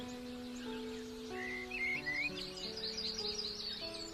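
A baby bird chirps and sings in sweet, high whistled trills and quick tweets over a soft, sustained musical background, moderately loud and close.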